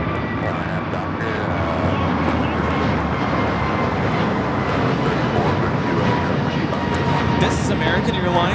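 A jet airliner at Los Angeles International Airport roars loudly and steadily close by as its engines run, with people talking underneath the broadband rumble.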